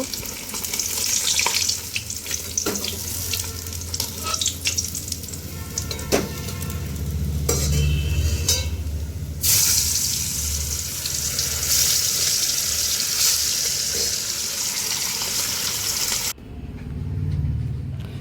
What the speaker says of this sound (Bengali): মাছটাকে লাল লাল করে ভেজে নেব।